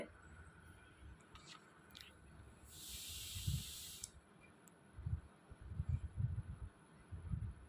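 Fish curry with a pinch of turmeric sizzling in a pan while a spatula stirs it, a low hiss with a brief burst of sharper sizzle and soft scraping knocks near the end.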